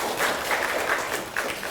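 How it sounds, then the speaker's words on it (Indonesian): An audience at a school claps for children, a lively, fairly close patter of many hands, dense and uneven, with no one speaking over it. "tepuk tangan dulu untuk anak-anak"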